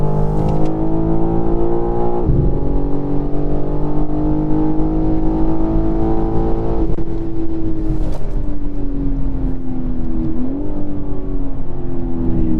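A 2023 BMW M3 Competition xDrive, rated at 503 horsepower, accelerates hard. The loud engine note climbs steadily, dips briefly at each upshift, then climbs again. It is continuous, close-up and has no talking over it.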